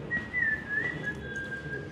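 A man whistles a melody from an old Hindi film song, a clear sustained tune with gentle pitch bends, close and alone over a quiet room background.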